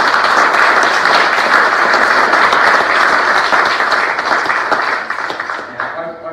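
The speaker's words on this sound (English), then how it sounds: "So can we have a round of applause for Jill?" An audience claps loudly and densely for an author at a 2019 book launch, a sustained round of applause that thins and fades over the last second or so.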